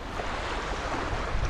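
Small waves washing in at a freshwater water's edge in the Bendigo region, pummelling a yabby in the shallows; a close, continuous churning surge with wind buffeting the microphone.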